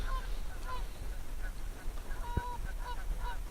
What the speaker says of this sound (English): those geese are having a right old go at each other